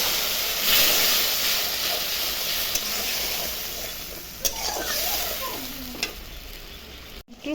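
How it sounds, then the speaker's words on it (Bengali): Turmeric and spice masala sizzle loudly in hot oil while being stirred for a sole fish curry, a continuous close frying hiss with occasional scrapes and clinks of the spoon against the pan. "মশলাটা এখন ভালো করে এর সঙ্গে কষাবো।"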